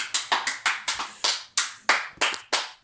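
A dozen or so sharp hand claps in an uneven rhythm, close and fairly loud, with nothing else audible between them.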